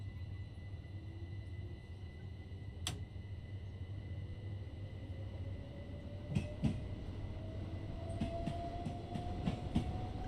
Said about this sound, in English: I love that sound.